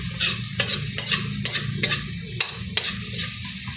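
Tomatoes cook in a pan for a mung bean stew, a close sizzle broken by rhythmic scraping stirs about every half second.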